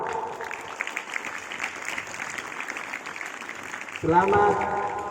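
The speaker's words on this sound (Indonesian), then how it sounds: "Kelas 4 tepuk tangan untuk kelas 4." Students at an Islamic boarding school opening ceremony clap for class 4 with a scattered, moderately loud patter of many hands. About four seconds in, a loud amplified voice starts talking over the clapping.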